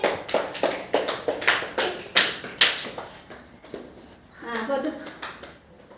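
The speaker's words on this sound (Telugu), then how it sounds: "వెరీ గుడ్ క్లాస్ కొట్టండి" Schoolchildren in a foundation-school classroom clap their hands together in a steady rhythm, about eight sharp, fairly close claps over three seconds, before the clapping stops and a voice speaks briefly.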